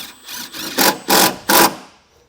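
A power drill driving self-tapping screws into a 2020 Chevrolet Traverse while a battery charge line kit is fitted: three short, loud whirring bursts at close range, separated by brief pauses, with a softer spin-up before them.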